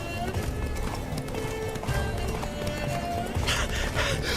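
In The Witcher 3, the horse Roach gallops with steady, driving hoofbeats under dense game sound and a busy background, while voices talk over the run.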